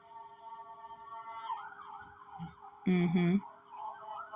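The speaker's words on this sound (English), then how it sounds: "I hear the sirens in the background." A faint wailing siren drifts in the distance, rising and falling, briefly covered by a louder nearby burst of noise.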